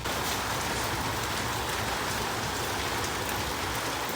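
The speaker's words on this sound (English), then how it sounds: "Y'all, it is raining so hard." Heavy rain pours steadily, a dense, even hiss of drops striking surfaces that stays loud and unbroken throughout.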